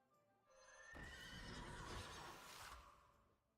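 A horse minion in the video game Hearthstone Battlegrounds gives a loud, clear whinny lasting about two seconds that rises and then trails off, with no voices over it.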